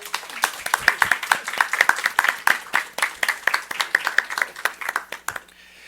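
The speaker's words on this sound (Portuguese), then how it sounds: "Uma salva de palmas, por favor." An audience at a data science workshop claps steadily in applause, dense and close, before fading out.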